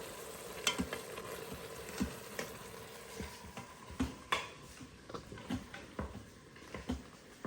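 A spoon stirs sausages through a chickpea stew in a pot, giving repeated soft scraping knocks and light clinks at an uneven pace over a quiet bubbling sizzle.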